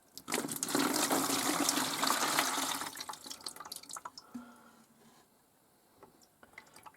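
Dirty water pours out of a water filter housing in a steady gush for a few seconds, then tapers off into scattered drips and trickles.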